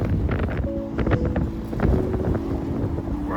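Cold winter wind gusting at a sailboat marina, a loud rumbling buffet against the microphone with faint tonal creaks and hums from the moored boats, no speech.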